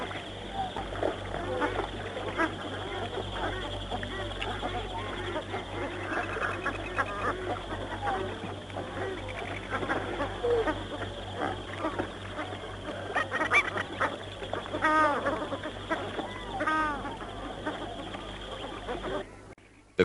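Mountain ducks call in the open, a busy chorus of honking, quacking bird voices running steadily throughout at moderate level, with a voice talking over the calls.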